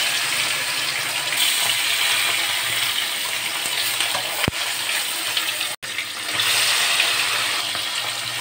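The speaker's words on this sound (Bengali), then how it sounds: "কড়াইয়ে তেল গরম হতে দিয়েছি, এই মাছগুলো ভেজে নেব, কয়েকটা কয়েকটা করে দিয়ে ভেজে নেব" Several pieces of fish sizzle in hot oil in a wok, giving a loud, steady frying hiss throughout. One sharp click and a brief dip in the sizzle break it near the end, and no one speaks.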